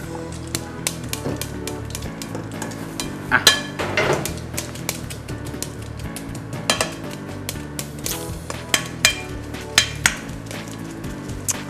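Roasted peanuts being pounded coarsely in a mortar in a kitchen, a series of sharp irregular knocks and thuds spaced a fraction of a second apart, fairly close and clear, with no talking.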